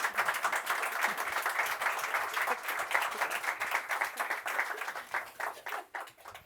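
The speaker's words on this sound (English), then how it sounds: "give them a warm round of applause" Conference audience at a defence capabilities seminar giving a panel a warm round of applause, a full steady wash of clapping that thins and tapers into scattered final claps.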